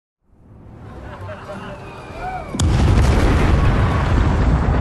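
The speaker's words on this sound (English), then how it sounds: "Easy on the fireworks, folks." Fireworks erupt in Gangs of Sherwood as a sudden loud burst at about 2.6 seconds, followed by dense, sustained crackling and booming, after faint whistling tones and a quiet rising rumble.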